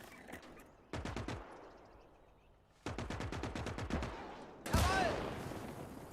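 Soldiers in the WWII game Gates of Hell fire their rifles in sharp rapid bursts, grouped into several volleys of crackling gunfire with short pauses between them, plus a short shouted voice.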